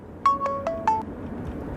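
A mobile phone ringtone plays a short sequence of four bright chiming tones at a quick, even rhythm, clear and close over a low background hum.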